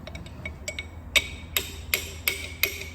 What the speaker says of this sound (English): Slide a big socket over the top and smack it.